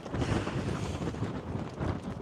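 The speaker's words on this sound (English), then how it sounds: "the wind will knock you over. It is that strong gusting" Strong gusting wind, around 45 mph, on the open high plains on a morning, roaring and buffeting into the microphone as steady loud broadband rumble that swells and eases throughout.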